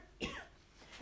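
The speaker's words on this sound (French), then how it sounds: "je tousse pas parce que j'ai le coronavirus" A single short cough close to the microphone, followed by a softer second throat sound, in a quiet indoor room.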